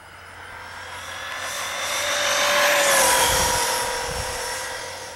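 A Traxxas Maxx 4S RC car makes a full-throttle speed run, its high electric whine swelling as it approaches, peaking as it passes close, then fading away.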